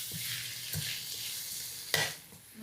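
Green chilli paste fries over a low flame in a pan, a soft steady sizzle broken by a few light scrapes of stirring, the loudest near the end, no talk.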